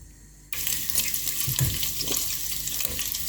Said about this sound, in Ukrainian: висипаємо сало і будемо його смажити, щоб були шкварочки і жир